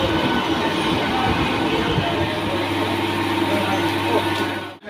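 Local train pulling into Uluberia station on the Howrah to Digha line, heard from on board: loud continuous rumble and rattle of the carriages with a low steady drone, ending abruptly.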